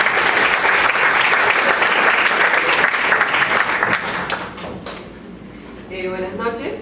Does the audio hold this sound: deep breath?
no